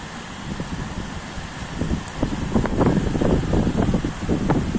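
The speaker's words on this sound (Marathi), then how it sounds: "पावसाच्या सौम्य धारी आहेत पण वादळ वारा खूप आहे" Strong gusty wind blowing during light rain, a steady broad rush that swells louder in the second half, with no voices.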